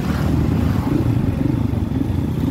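A Yamaha R15 sport motorcycle passes on a street, its mid-pitched engine droning steadily and close by for a couple of seconds without any talk over it.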